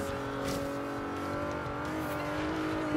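Hyundai Genesis race car in Forza Horizon 3 with a steady, droning engine note holding at high revs, close and continuous throughout with little change in pitch and no talk.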